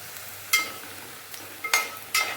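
Onion and garlic fry in a pan, browning to a deep color, with a soft steady sizzle and three or four sharper bursts of crackle where the pan is stirred.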